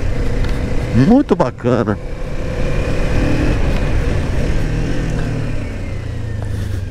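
A Kawasaki Ninja 500 motorcycle engine revs hard past 7000 rpm in a rising, rapid climb and then drops away, followed by a steady running drone, loud and close while someone talks over it.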